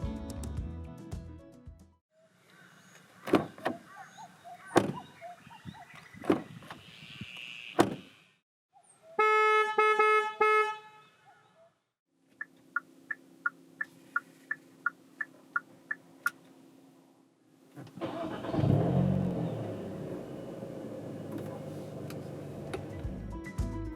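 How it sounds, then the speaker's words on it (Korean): A Hyundai Veloster N with a DCT gearbox clicks and ticks, gives a few chime tones, then a steady series of regular ticks. Its engine finally swells into a loud, close, rising rev. "잠시 벨로스터 N이 들려주는 감성 측면의 소리를 들어볼까요"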